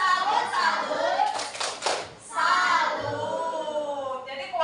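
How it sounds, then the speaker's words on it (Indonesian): Classroom of children performing a 'tepuk salut' clapping cheer for a classmate named Askia, rhythmic hand claps mixed with young voices chanting and talking, near and fairly loud. "tepuk salut dulu untuk Askia"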